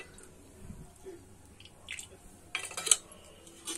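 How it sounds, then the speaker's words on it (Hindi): Cooking oil is poured into a kadhai while making desi street-style veg chowmein noodles, a short wet splash and clatter against the metal pan after some quiet kitchen clinks and drips. "अब इसमें हम डालेंगे तेल।"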